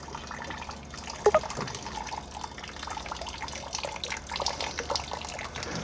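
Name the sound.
water being poured into a car engine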